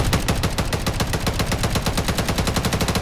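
Rapid automatic gunfire from a video game weapon stripped of its accuracy attachments, a loud continuous burst of evenly spaced shots filling the whole stretch with no pauses.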